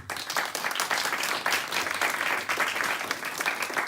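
A crowd at a local Les Républicains New Year's greetings event bursts into sustained applause, many hands clapping in a thick, even roar, moderately loud and without speech.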